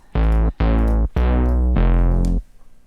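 Basic low-tuned polyphonic patch on a Nina synthesizer for tech house, four loud, buzzy, bass-heavy chord stabs in quick succession, each held briefly with short gaps, then fading out; no voice over it.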